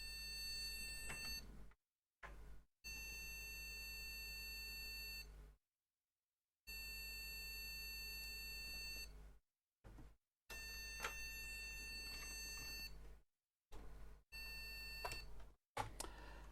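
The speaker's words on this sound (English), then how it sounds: "That beeping says bad memory to me." Repeated long electronic beeps from an old computer's memory error, with short silent gaps between them, a steady tone sounding on and off several times.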